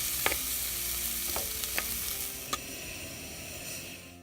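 Rice cooks in a pan with homemade sazon, giving a soft, steady sizzle with a few sharp clicks and scrapes of stirring, faint and close, with no voices.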